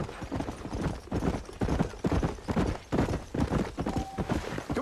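A horse's hooves clip-clop at a steady trotting rhythm in the Western video game Red Dead Redemption, a close, continuous stream of hoof beats with a faint rattle of tack and no voices.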